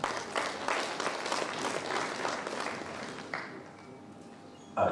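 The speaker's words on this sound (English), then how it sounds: "Let's give him a round of applause." An audience at a local economic development event claps in sustained, fairly close applause that fades toward the end.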